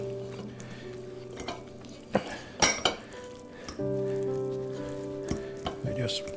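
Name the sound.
stirring egg and bread mixture sizzling in a pan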